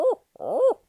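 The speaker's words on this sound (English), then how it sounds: "But the owl hoot itself comes from back pressure" Barred owl hoot during turkey season: two close, clear hooting phrases separated by a short gap, the second longer with a rising then falling nasal sweep, with no talk.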